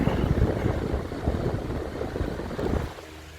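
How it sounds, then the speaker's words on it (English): A loose cage rattles on a 1998 Holmes (Honeywell) 14-inch high velocity fan, model HAHV-914, a dense, fluttering clatter riding over steady motor and air rush, close and continuous before dropping away near the end. "That rattling is the cage. It's a little loose."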